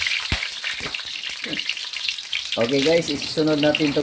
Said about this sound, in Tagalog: nandiyan na ang bawang at ang mantika. So ito ang simula